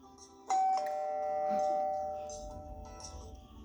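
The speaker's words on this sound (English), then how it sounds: "The doorbell rang." A Ring doorbell chimes once, a clear sustained electronic tone that rings out and slowly fades, with faint voices in the background.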